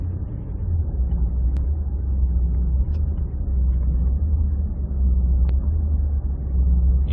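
Ford F-150 with a 6R80 six-speed automatic surging as the torque converter clutch engages at steady throttle, heard from inside as a continuous low engine rumble with a slight rhythmic swell and no talking.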